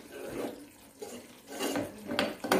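A spoon stirs a thickening moong dal sweet sweetened with country sugar in a pan, making irregular scraping and clanking against the metal in short close bursts.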